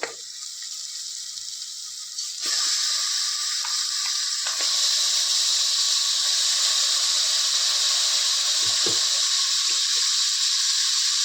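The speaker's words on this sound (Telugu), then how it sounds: "అందులో బాగా శుభ్రంగా కడిగిన మటన్ అండి, మటన్ ముక్కలు వేసుకుందాము" Washed mutton pieces dropped into hot fried masala in a pan for mutton fry, a loud steady sizzle and hiss that jumps sharply as the meat goes in, then crackles continuously, with no talking.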